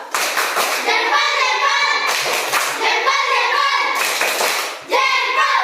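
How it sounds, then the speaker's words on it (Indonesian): A classroom of children does a rhythmic thumbs clap together for a classmate, close and loud, in bursts of quick taps, with kids' voices mixed in. "Kita berikan dulu tepuk jempol untuk Emma. Tepuk jempol."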